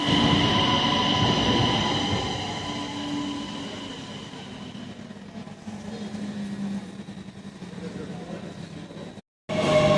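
A Danish commuter train rolls along rails toward Copenhagen, heard from inside a carriage, with a steady rumble, humming motor tones and a brief dropout near the end.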